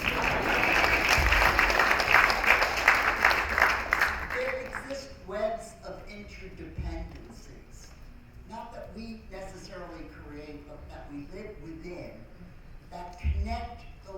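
An audience at a conference plenary session claps loudly for about five seconds; the clapping then drops away as a single speaker begins talking, with a short burst of sound returning near the end.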